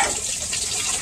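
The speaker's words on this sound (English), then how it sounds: "So he's going to put the water up to the end of this hose right here on our heater core." Water from a hose gushes through an engine's heater core during a coolant system flush, a brief, steady, close rushing flow with no talk.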